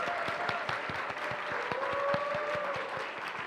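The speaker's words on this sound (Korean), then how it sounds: "여러분 순장님들의 큰 격려와 박수로" Applause from a church fellowship audience honoring newly appointed student leaders, steady dense clapping throughout with faint tonal sounds and a voice briefly above it.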